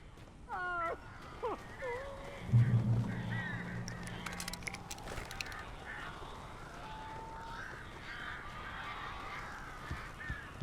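Harsh bird calls and squawks in the video game Alan Wake, several quick cries early on, then a low electronic blare and crackling bursts over a murky background.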